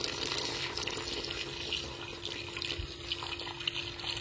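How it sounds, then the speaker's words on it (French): Water streams steadily into a cooking pot of meat for couscous, a continuous close splashing pour with no voices. "Je viens rajouter un petit peu d'eau."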